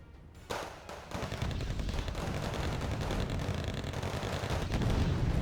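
T-72B1 tank fire in the strategy game Wargame Red Dragon, a sharp burst followed by dense, continuous rumbling explosions and booming gunfire that grows louder toward the end.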